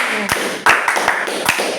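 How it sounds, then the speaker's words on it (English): A small class claps during an Epie language lesson, a handful of sharp, separate claps at an uneven rhythm, close and fairly loud, with a brief voice at the start. "Clap for him."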